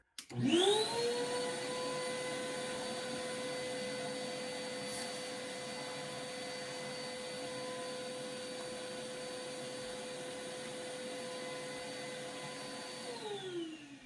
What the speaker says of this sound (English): And what will happen is the vacuum will automatically come on.